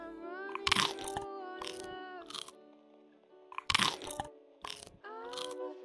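Loud crisp crunching from eating pizza in the Mirror Mirror video game, two clusters of sharp bites and chews over a sustained musical tone, close and prominent.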